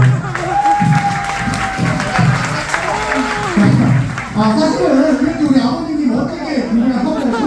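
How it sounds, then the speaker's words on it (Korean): Applause and cheering from guests at a Korean first-birthday party (doljanchi), a dense crowd of clapping mixed with chatter and whoops, fairly loud and close, with voices talking over it throughout. "박수 한번 주요"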